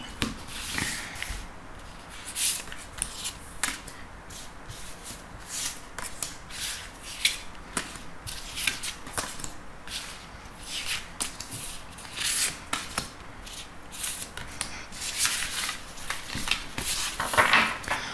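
A deck of cards is shuffled and drawn for a card reading, close papery riffles, rubs and snaps repeating in irregular bursts throughout, with no voices.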